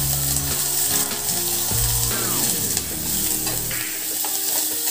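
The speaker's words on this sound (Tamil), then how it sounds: "சின்ன வெங்காயம், பச்சை மிளகாய் ஒன்று, கருவேப்பிலை போட்டு வதக்கிக்கலாம்" Shallots, a green chili and curry leaves sauté in hot oil after mustard seeds have popped, giving a steady close sizzle with scraping stirs and spoon clinks, no voices.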